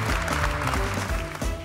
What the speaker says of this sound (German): das ist unbedingt ein Applaus wert